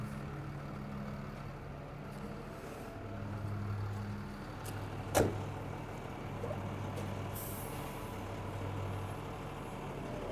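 A Peterbilt 220 hook lift truck fitted with an American Palfinger hook lets out one sharp, close burst of air brake release over a steady idling engine rumble.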